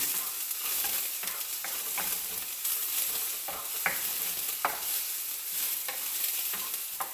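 Garlic, onion and ginger sautéing in oil for chicken lechon paksiw, a dense hissing sizzle punctuated by regular spatula scrapes and taps against the pan, steady and close with no speech.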